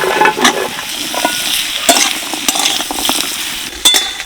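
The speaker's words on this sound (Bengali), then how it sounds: "ডাঁটা দিয়ে দু মিনিট মতো নাড়াচাড়া করে নিলাম" Drumstick pieces (sajne data) and potatoes tossed and fried in a kadai, with a continuous loud sizzle and irregular scraping stirs of a spatula against the pan, close up.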